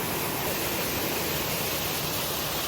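Rushing water pours continuously at a waterfall along a rocky stream, a dense, steady roar that fills the whole stretch close by, with no voices over it.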